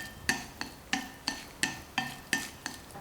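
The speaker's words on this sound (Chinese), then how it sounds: "切好的红薯粉条放入盆中，加入一些老抽，让粉条上色，搅拌均匀" Sweet potato noodles being mixed with dark soy sauce in a bowl, with regular squelching strokes and light clinks of a utensil roughly twice a second, close and quiet with no talk.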